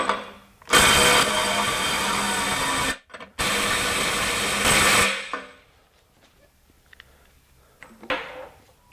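A DeWalt DCF902B subcompact impact driver running in reverse on high, with two long loud buzzing bursts split by a brief pause, then quieter clicks and a short faint final whirr.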